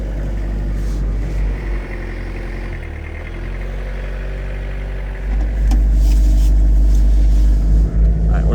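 A Japanese camper van's engine hums and rumbles steadily while driving, with a low drone that swells louder toward the end, heard alone without talk.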